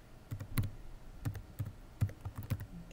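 Computer mouse clicked repeatedly during an on-screen Geogebra drawing demo, with about ten quiet, sharp clicks in an uneven rhythm over soft room noise and no talking.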